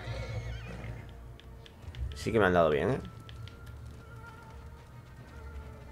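A horse whinnies loudly in the middle of the Ghost of Tsushima game scene, with faint hoof clatter and game ambience around it and someone speaking briefly over the start.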